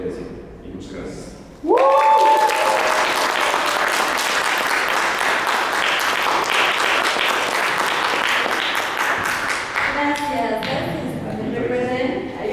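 Audience applause at a talk on sexual encounters, drug use and care, breaking out suddenly after a speaker's voice and holding steady as dense, loud clapping before tapering as voices return near the end.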